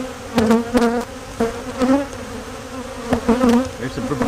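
Honeybees from an opened hive colony during an inspection after mite treatment, buzzing steadily up close with swelling, wavering drone tones and several louder passes near the microphone.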